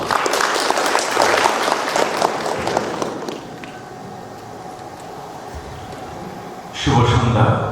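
An audience at an award ceremony at ITC Royal Bengal applauds loudly for about three seconds, fading into a quieter room before a second burst of clapping starts near the end.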